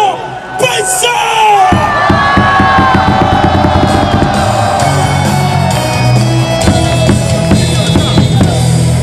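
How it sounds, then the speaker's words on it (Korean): Outfield crowd at a baseball game in Jamsil Stadium roaring and cheering, a loud sustained wall of shouting and whoops from many fans, rising sharply after a brief quieter start. "함성"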